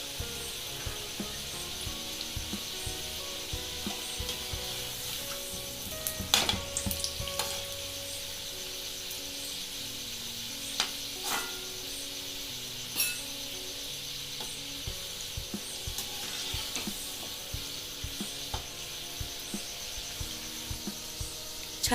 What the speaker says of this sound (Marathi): मंद आचेवर बाकरवडी तळून घ्यायची.